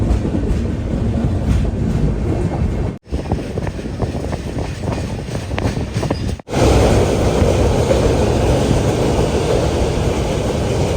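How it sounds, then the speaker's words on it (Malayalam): A passenger train running at speed on rails after leaving Kannur, with loud, continuous rolling rumble and rattle, brief cut-outs, and faint clickety-clack over wind noise. "6:47 കണ്ണൂരിൽ നിന്ന് ഇതാ ട്രെയിൻ എടുത്തിരിക്കുകയാണ്."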